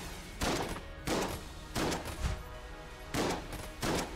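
Bursts of rapid gunfire from the video game Enter The Gungeon, several loud fusillades of about half a second each with short gaps between them.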